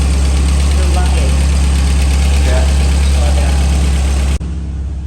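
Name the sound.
1983 Porsche 924 engine idling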